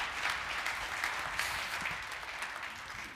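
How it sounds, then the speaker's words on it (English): Sustained audience applause at a financial seminar on retirement accounts and taxes, a dense wash of clapping from a seated crowd that holds steady and tapers slightly near the end. "give Derreck Long a loud applause"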